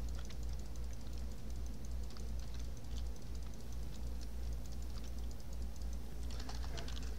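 Rapid clicking of a computer keyboard, keys tapped in quick irregular bursts, close and clear over a low steady hum, without speech.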